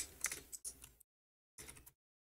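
Faint, close computer-keyboard typing while entering code for a Python Discord bot, with two quick bursts of keystrokes separated by a brief pause.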